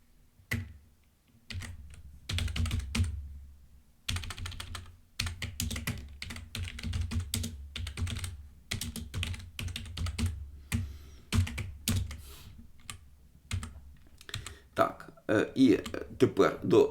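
Bursts of clicky typing on a computer keyboard while entering Python code, irregular runs of close keystrokes separated by pauses, with someone talking over and between them.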